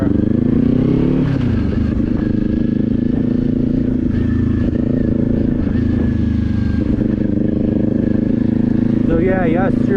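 A motorcycle rides in strong, gusty wind, its engine droning loud and steady while wind roars across the microphone, and a rider talks over it.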